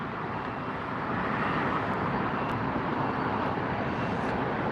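An ANA Boeing 787-8 airliner passes on the north side at LAX, a steady broadband jet roar holding loud and constant throughout.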